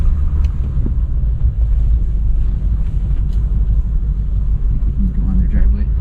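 A Land Rover Discovery 1 on the move, its engine and road rumble filling the cabin as a steady low drone throughout, with people talking over it.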